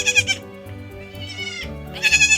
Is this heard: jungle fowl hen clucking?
no